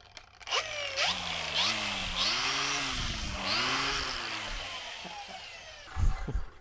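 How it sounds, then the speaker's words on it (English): An electric power tool revs up and down in several rising and falling surges before cutting tube, loud and close, with no talking, ending in a few short clattering knocks. "does anyone else actually like rev their tools"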